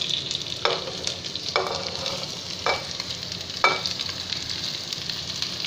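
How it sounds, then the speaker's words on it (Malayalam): Sliced large onions frying in hot oil for a chicken curry, a steady close sizzle broken by several brief scraping stirs of a spoon in the pan. "അതിന് ശേഷം നമുക്ക് നമ്മളെ വലിയ ഉള്ളി മുറിച്ച് വെച്ചിട്ടുള്ളത് അത് ആഡ് ചെയ്യുക"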